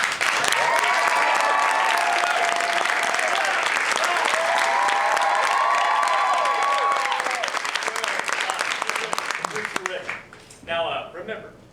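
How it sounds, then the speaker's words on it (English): Audience applause at a live theatre show, dense and sustained clapping with overlapping voices and cheers, fading and thinning near the end. "an applause sign will light up whenever Johnny or somebody makes a joke"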